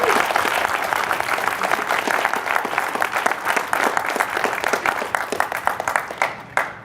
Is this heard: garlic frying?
no